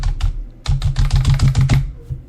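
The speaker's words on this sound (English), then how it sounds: "Some of you type really loud, really loud." Loud, close typing on a computer keyboard: a short burst of heavy, rapid key clacks after a brief opening flurry and pause, with no voices.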